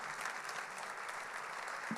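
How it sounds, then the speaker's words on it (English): Quiet, steady applause from an economic club audience after an onstage talk, a soft even patter of many hands lasting about two seconds, heard faintly at a distance. "If we can all give you a round of applause."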